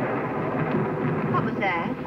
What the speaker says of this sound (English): Thunder. More rain coming.